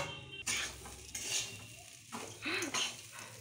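Poha being stirred with fried vegetables in a pan, with metal spoon scrapes and clinks, steady and close. A faint voice is heard in the background.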